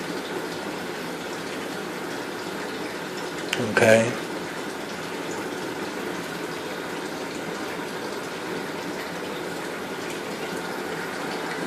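Magic Chef washing machine filling with warm water: a steady rushing hiss continues throughout, with a brief louder bump near the middle and a single short spoken word.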